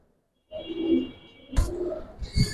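A pair of Giribaz pigeons coo in soft, low, throaty phrases close by, with a couple of sharper flutter or scuffle sounds mixed between the calls.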